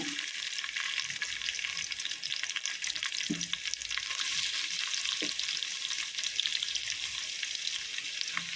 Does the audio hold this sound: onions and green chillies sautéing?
yes